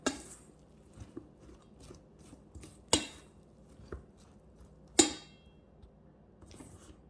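A utensil stirs vegetable fritter (ukoy) batter mixed with an egg in a bowl, giving soft scraping with a few sharp taps against the bowl's side, spaced a second or two apart, close and quiet.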